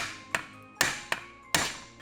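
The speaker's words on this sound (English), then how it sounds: "give the puller a little tap with a hammer" A hammer gives a bearing puller four light taps while splitting the crankcase of an RM250 engine during a rebuild. Each tap is a short, sharp metallic knock, close and unevenly spaced, with no talking.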